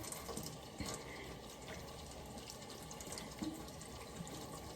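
A tap runs steadily into a sink during handwashing, a soft, continuous wash of water with faint splashes, fairly quiet and with no talk over it.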